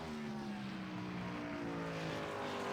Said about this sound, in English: Hear the downshift in Joe's car